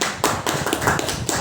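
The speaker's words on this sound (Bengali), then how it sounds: "সবাইকে জয় করতালি দিন" An audience of people at the opening of a new old-age home claps together, a steady patter of overlapping hand claps with small surges, moderately loud and continuous, no voices over it.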